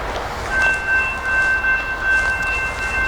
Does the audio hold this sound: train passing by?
yes